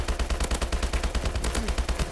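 Rapid bursts of rifle fire from an HBRa3 in the Call of Duty Advanced Warfare video game, loud and close, with shots crackling in quick repeated volleys throughout.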